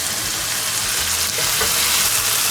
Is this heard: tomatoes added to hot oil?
yes